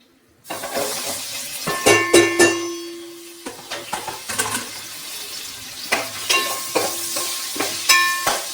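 Chopped onions hit hot oil with a close, steady sizzle, while a utensil repeatedly stirs and clinks against the pan in uneven bursts; no one speaks.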